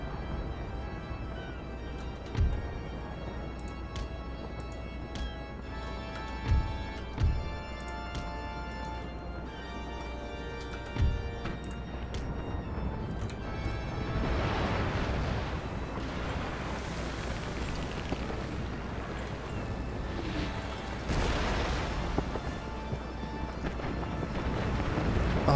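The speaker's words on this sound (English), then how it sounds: "Oh man, those cannon shots. It's like a wall of fire." Naval cannon fire from warships in the strategy game Empire: Total War: several heavy, separate booms in the first half, then a dense, roaring wash of broadband battle and sea noise that swells and stays loud.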